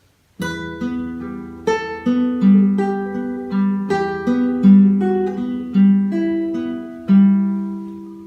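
An acoustic guitar plays Romance d'Amour in flowing triplets, clear plucked notes ringing over repeating bass tones, solo and close with no talk.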